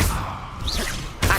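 Accio summoning spell cast in Hogwarts Legacy: a short magical whoosh with a bright rising shimmer, followed by a thump as the pull lands, loud and close.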